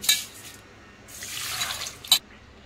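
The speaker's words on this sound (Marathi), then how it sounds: "आता आपल्याला ते स्वच्छ धुवून घ्यायचं आहे" Water sloshing and dripping as rice is rinsed, with a couple of brief splashes and a quieter stretch of trickling in between.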